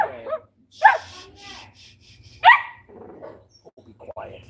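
A small dachshund barks in a few sharp, loud bursts close by, with whimpering yips between them, while someone talks over and around the barking.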